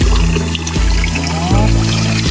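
Water pours and trickles steadily from a clear natural spring on a farm in Cavinti, Laguna, a continuous close splashing flow with a steady hum underneath.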